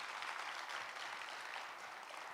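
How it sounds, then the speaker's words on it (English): An audience at an economic outlook event applauds to welcome students, a soft, distant wash of clapping holding steady for a couple of seconds without talk. "How about a round of applause to welcome the students?"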